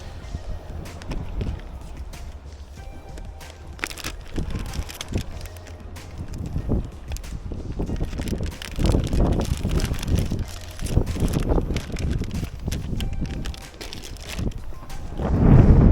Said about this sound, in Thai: แต่ตอนเนี้ย ลมครับ